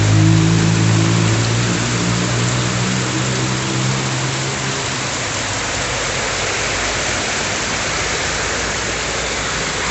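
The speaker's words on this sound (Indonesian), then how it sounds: "Sangat lebat sekali hujannya ini." Heavy rain pours down steadily on a road, a dense, loud, continuous hiss throughout, with a low engine-like rumble fading out in the first few seconds.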